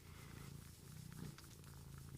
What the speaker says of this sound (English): Oh, can you hear him? He's purring.